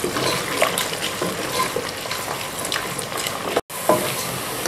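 Chopped onions frying in a pot with star anise, green cardamom and cloves for a Punjabi beef rice dish, a steady close sizzle and crackle with stirring scrapes, briefly cut off near the end.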